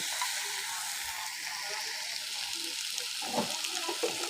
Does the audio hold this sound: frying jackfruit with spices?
yes